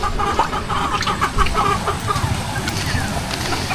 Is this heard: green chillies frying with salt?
no